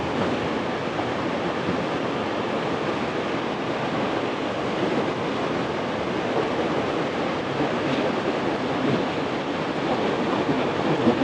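Loud, steady rush of water roaring continuously without a break, broadband and close, with no voices over it.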